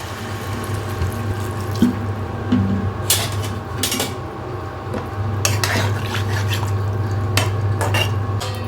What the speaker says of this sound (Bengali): এরপরে আমি জলটা ঢেলে দিলাম।